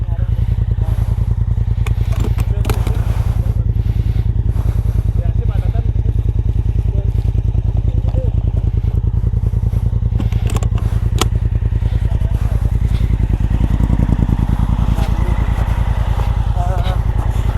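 Suzuki V-Strom 250 SX motorcycle engine running steadily during off-road riding, a loud, close, continuous idle-to-low throttle drone with occasional clatter and scraping as people talk over it.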